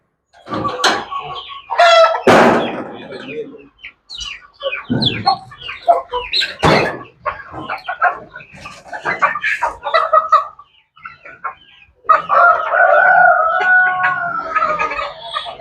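Several chickens, native hens and Silver Fayoumi, cluck loudly and close by in uneven bursts, and a rooster crows near the end, with no talking.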